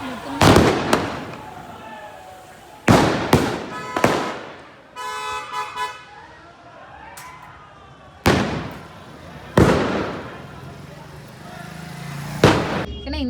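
Firecrackers go off in a Kashmir market during Diwali night, several sharp loud bangs spaced out over the clip with crackling between them, and voices talk in the background.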